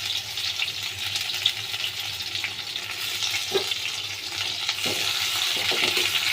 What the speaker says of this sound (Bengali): পেঁয়াজগুলো কিন্তু একটু লাল লাল করে একটু ভাজতে হবে।